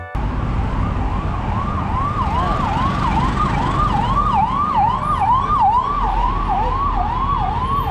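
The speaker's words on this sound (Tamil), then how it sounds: "ஆம்புலன்ஸ் போது எல்லாரும் வேண்டிக்குங்க." A loud ambulance siren wails in a rapid, steady rising-and-falling cycle close by, over a rumble of traffic.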